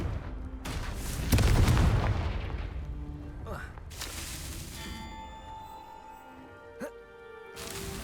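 The Confringo fire-blast spell goes off in the game Hogwarts Legacy: a deep booming burst swells and fades, followed by softer impacts and a ringing, tonal shimmer, set amid the game's ambient sound.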